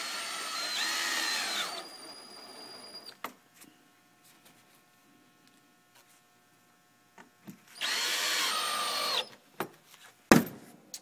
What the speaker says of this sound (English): Take the screws that they supply you and screw this in.